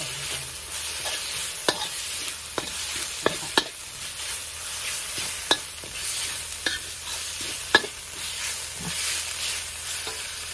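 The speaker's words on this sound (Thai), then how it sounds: "ผัดพริกแล้วก็เอาหมูสับลงไปนะคะ" Chili and minced pork stir-fried in a pan, a spatula scraping and clicking in irregular strokes over a steady, close sizzle with no talking.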